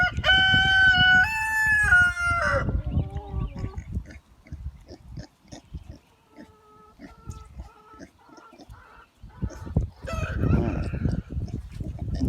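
A rooster crows loudly and close by several times in a farmyard, with scattered clucks and other fowl sounds between the calls.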